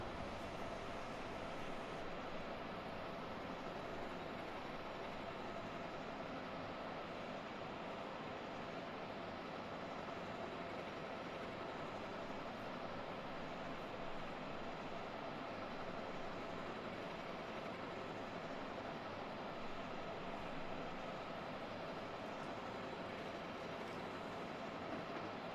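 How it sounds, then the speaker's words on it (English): A steady, continuous rumble of a video-game train rolling past on the Washington-Baltimore line, a broad wash of noise holding level throughout with no distinct breaks. "There's a train going by."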